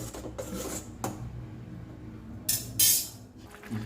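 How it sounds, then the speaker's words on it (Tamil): A spoon stirring vegetable paruppu sambar in a metal cooking pot: short scraping and rasping strokes in a few separate bursts, close and fairly quiet, with no talking. "நல்லா ஒரு வாட்டி கிண்டி விட்டுட்டு இப்போ ஒரு கொதி விட்டுக்கலாம்"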